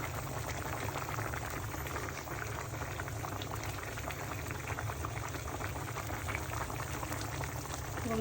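Hilsa fish curry with taro bubbles steadily in a pot, a continuous soft boiling and simmering sound with dense small pops, close and even throughout.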